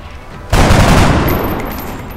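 A single heavy burst of gunfire in XCOM: Enemy Within with the Long War mod, starting suddenly and holding as a dense, loud roar that slowly fades over the next second and a half.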